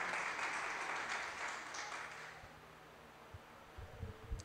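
A church congregation applauding during a worship service, a broad wash of clapping that fades after a couple of seconds into quieter room noise with a few thumps and rustles.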